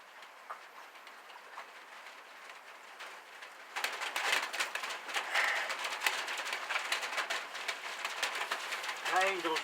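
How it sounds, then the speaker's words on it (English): Heavy rain comes down overhead after a hot day, starting as a quiet hiss and jumping abruptly to a loud, steady broadband downpour with dense pattering, close and continuous to the end. "Here comes the rain again."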